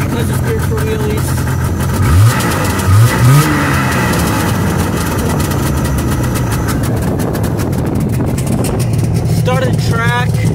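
A 1998 Yamaha Vmax snowmobile engine revs after a cold start, a loud, near mid-pitched drone with a couple of sharp rising throttle blips, while people talk over it.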